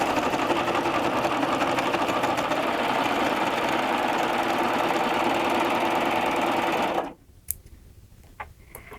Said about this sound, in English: It's going to give me the same quality stitch on the 10-ounce denim than it did on the lining fabric.